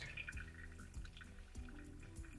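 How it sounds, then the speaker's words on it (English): Pour-over coffee drips down through the grounds, soft low drips falling at a slow, roughly even pace under a faint background hum, quiet and close. "You can stop and allow the coffee to drip down."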